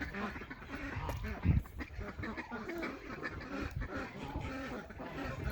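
A farm duck quacks intermittently in an outdoor setting, faint and somewhat distant, with a steady background of ambient noise and one brief louder burst partway through.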